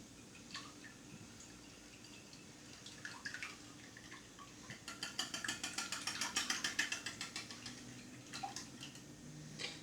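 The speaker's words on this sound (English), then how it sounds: "I'm going to whisk this bowl to get a bunch of oxygen into it" Eggs are beaten in a bowl with a small whisk, a quiet, close run of rapid rhythmic clicking and tapping strokes that builds in the middle before easing off, with no talking.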